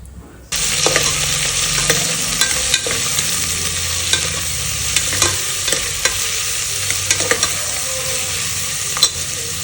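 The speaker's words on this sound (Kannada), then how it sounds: "ನೆಕ್ಸ್ಟ್ ಇವಾಗ ಈರುಳ್ಳಿ, ಹಸಿಮೆಣ್ಸಿನ್ಕಾಯಿ, ಶುಂಠಿ ಬೆಳ್ಳುಳ್ಳಿ ಜಜ್ಕೊಂಡಿರೋದನ್ನು ಅಷ್ಟನ್ನು ಹಾಕ್ಕೊಳ್ತೀನಿ." Onion, green chilli, crushed ginger and garlic fry in a hot pan, a steady loud sizzle starting abruptly and continuing throughout, with occasional clicks and scrapes of stirring.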